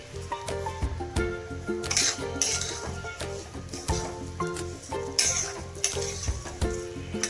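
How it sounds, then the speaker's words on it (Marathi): Coarse grain flour (bharda) for lapsi is roasted in a pan with steady stirring, giving a rough scraping and sizzling texture punctuated by clinks of a utensil against the metal. "आपण हा भरडा आता व्यवस्थित भाजून घ्यायचा आहे"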